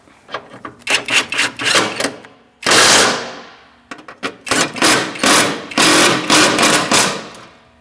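Bolts being snugged up during a transmission mount replacement on a 2002-2006 Toyota Camry, heard as close, loud bursts of rapid ratcheting or impact-tool clatter in repeated short runs, with one longer sustained burst partway through.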